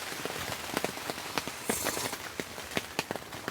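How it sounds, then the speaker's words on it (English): Rain falls on an air tent during car camping in the bush, with light wind. Close, irregular patter and sharp drop taps sound alone over a soft, steady wash of rainfall. "There's some nice rain coming down, and the wind is not too intense"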